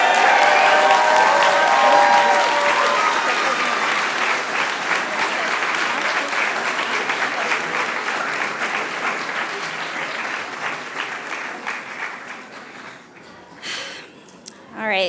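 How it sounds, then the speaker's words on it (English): An audience at a MEDEX graduation ceremony gives a long, dense round of applause that starts loud and full, thins out gradually and fades toward the end, where a few faint sounds remain. "now let's all give TC11 another round of applause."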